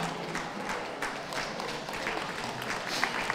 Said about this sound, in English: come on, give them a round of applause